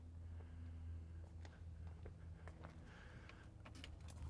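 Car keys for a 1979 Pontiac Trans Am jingle in a few faint, brief bursts over a low steady hum, close by and growing busier toward the end.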